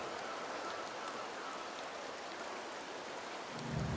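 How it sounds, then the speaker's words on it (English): Steady rain falls in the rainy region of Septimont in the video game Wuthering Waves, a dense continuous hiss of drops with a low rumble swelling near the end, no voices. "The rains in Septimont never seem eager to leave this season."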